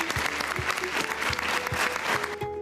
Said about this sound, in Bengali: তার জন্য একবার জোরে হাততালি হয়ে যাক